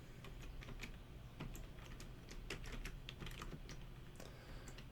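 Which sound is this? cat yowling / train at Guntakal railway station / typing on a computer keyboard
typing on a computer keyboard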